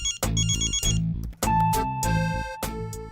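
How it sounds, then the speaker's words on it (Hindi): A mobile phone ringtone plays loud and close, a bright repeating electronic melody of short tonal notes with brief pauses, with no talk over it. "ओह माय गॉड, देवी का फोन।"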